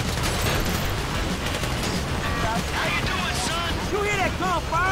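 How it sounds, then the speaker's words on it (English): Bursts of Grand Theft Auto V gunfire crackle through a dense, noisy mix, with chirpy electronic sounds and a voice talking over the action. "You hear that gunfire?"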